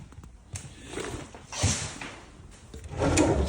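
Kitchen drawers being pulled open and pushed shut, several wooden sliding rumbles and knocks at close range, moderately loud with no voices.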